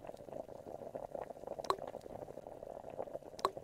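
Vegetables cooking in a soup pot in a PBS Kids game: a faint, steady bubbling and simmering with soft liquid pops, plus two brief bright chimes.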